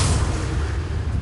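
A Bombarda spell blast in Hogwarts Legacy, a loud, dense rumbling roar of explosion debris with heavy low-end, sustained and close, with no distinct onset.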